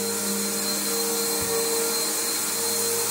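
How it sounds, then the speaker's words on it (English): A Bissell Powerforce bagged upright vacuum cleaner runs in a steady, loud, high whine with a constant motor drone throughout, no voices. "So we're using our Bissell Powerforce bag. And it's a pretty good little vacuum."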